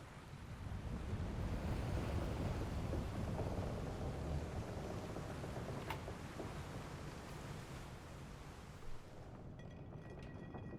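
A thunderstorm in Final Fantasy XIV Dawntrail rolls on as a dense, continuous wash of rumbling noise and wind, loud and steady with no voices over it.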